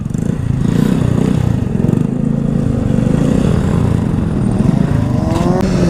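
A motorcycle revs loudly and steadily at night during wheelie riding, close up with a throbbing, clattering engine note that rises slightly near the end.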